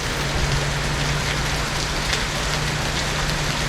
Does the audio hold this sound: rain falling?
yes